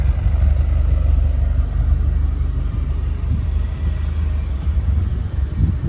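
A Nissan 240SX engine idles with a loud, low, steady rumble, heard up close for several seconds with no speech.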